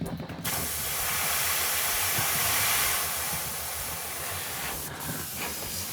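An airbrush sprays paint onto a converted Chaos Space Marine biker miniature, giving a steady, close, loud hiss that starts abruptly and runs for several seconds with a brief click near the end.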